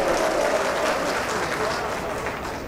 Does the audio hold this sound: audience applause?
yes